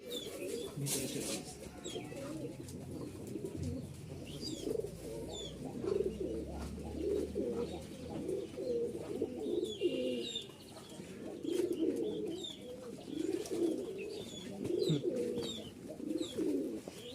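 Giribaz pigeons coo steadily throughout in low, rolling murmurs, several birds overlapping, with a few faint chirps and ticks above.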